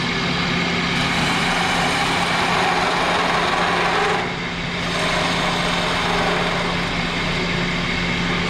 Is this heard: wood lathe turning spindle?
yes